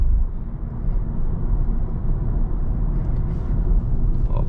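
A Nissan Leaf electric car with 149 hp picks up speed in eco mode on city streets, giving a steady low road rumble and tyre noise with no engine note, and no one talking.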